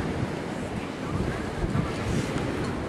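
Surf rolling onto a beach in Havana, Cuba, a steady broadband wash of waves mixed with gusty wind buffeting the microphone, heard close and at moderate level with no talk.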